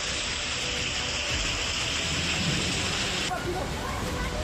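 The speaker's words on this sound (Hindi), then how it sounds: "इसी कड़ी में उत्तरकाशी जिले में बारिश का कहर देखने को मिल रहा।" Heavy rain pours steadily onto the Yamunotri highway in Uttarkashi district, Uttarakhand, a loud, dense hiss that shifts partway through, with a voice speaking faintly beneath it.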